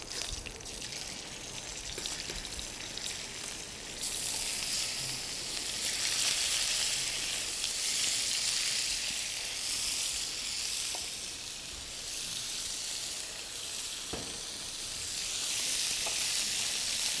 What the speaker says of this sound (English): So hot pan, I'm throwing in my pork.